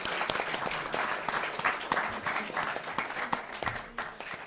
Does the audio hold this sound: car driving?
no